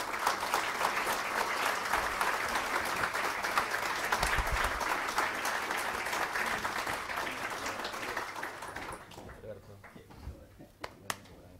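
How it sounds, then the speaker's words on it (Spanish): Sustained audience applause at a Rotary Club symposium, a dense clapping wash lasting about nine seconds before fading into a few scattered claps, with faint voices underneath. "con un aplauso."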